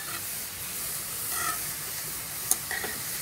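Carrots fry in ghee for a carrot halwa, giving a soft, continuous sizzle and hiss with faint stirring clicks and one brief sharp scrape, heard fairly quietly with no talking.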